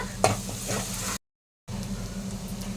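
Onions fry in a pan with turmeric and ginger-garlic paste, giving a steady close sizzle with a sharp stir near the start, then a brief dead silence before the frying hiss returns just as before.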